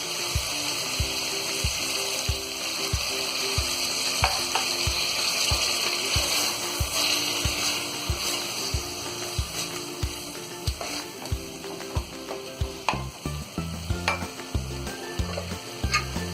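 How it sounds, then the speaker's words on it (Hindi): Keema matar frying in a pan as half a cup of water is poured in, a loud sizzle and bubbling hiss with repeated scraping stirring strokes, the spoon's knocks growing more distinct toward the end. "इसमें हम डालेंगे आधा कप पानी।"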